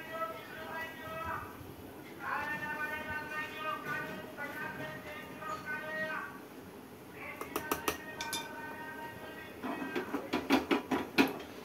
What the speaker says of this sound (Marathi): आता तेल गरम झालेलं आहे, त्याच्यामध्ये आपण मोहरी टाकून घेऊया